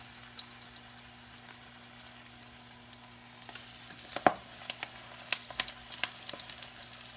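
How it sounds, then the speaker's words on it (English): Steady oil sizzle and crackle from eggplant slices frying in a pan, with a few sharper pops and a utensil clink near the end. "You want to hear that sizzle."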